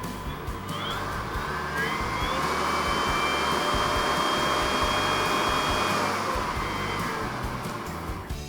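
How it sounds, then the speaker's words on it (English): Cobra BV6040VZ cordless battery blower vacuum blowing, its whining motor and rushing air holding a loud, continuous, close roar with a slight rise in pitch as the speed is turned up. "So you can see you've got lots of power there, but you've also got the control so that you can regulate how fast it's blowing."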